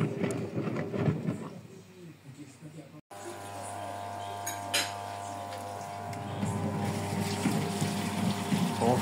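A Brandt 522 washing machine pumps water during its rinse cycle, a steady droning hum with a watery churn, loud and continuous after a brief cut, with a voice audible early on.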